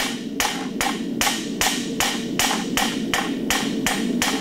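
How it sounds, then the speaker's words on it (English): Hammer blows on an anvil as a farrier draws quarter clips on a horseshoe, about a dozen sharp, evenly spaced ringing strikes in a steady rhythm, close and loud with no talk. "Small repetitive blows, flatten it out. Flatten the shoe out."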